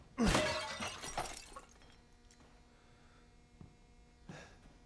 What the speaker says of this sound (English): Oh yeah, breakable glass.